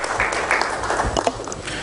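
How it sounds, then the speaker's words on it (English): A brief, dense burst of audience clapping at a Goa event honouring the Deputy Chief Minister, steady and fairly close. "A big round of applause for him"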